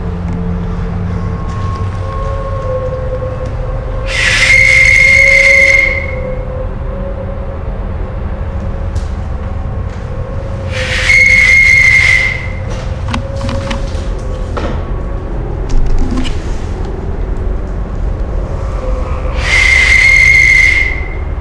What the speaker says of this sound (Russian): применить еще раз свисток смерти, дабы нам ответили по ЭГФ